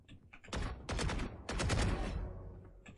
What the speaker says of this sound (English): And just strafing between our shots.